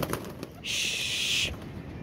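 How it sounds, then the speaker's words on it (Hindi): Pigeons released outdoors in bad weather, a broad burst of wing flapping lasting under a second over steady background noise, fairly close. "इन कबूतरों को बाहर निकालने लगे हैं"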